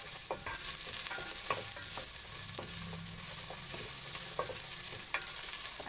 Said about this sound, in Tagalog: Hindi kailangan na sunugin natin o pa-brownie ng ating bawang sibuyas at pati ang luya. Konting gisa-gisa lang po.